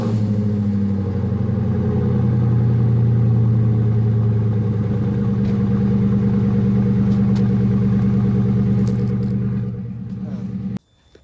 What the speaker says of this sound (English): it kind of sounded like metal was kind of just bouncing around in the exhaust